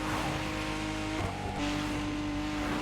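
In-game car engine from The Crew Motorfest fitted with a newly swapped exhaust, revving with a steady growl and loud, continuous harmonic drone that dips briefly and then climbs again.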